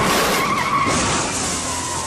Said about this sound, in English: their car skids and lurches across the highway and flies up an exit ramp